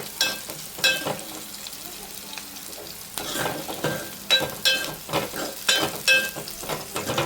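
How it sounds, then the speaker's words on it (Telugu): Onions and green chillies fry in a pan with a steady close sizzle, broken by repeated scraping and clattering strokes of stirring. "ఆనియన్స్ కాస్త వేగాక పచ్చిమిర్చి ఆనియన్స్ ఇట్లా వేగాలండి."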